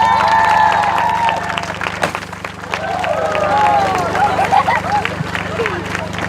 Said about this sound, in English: Massive round of applause for Laura.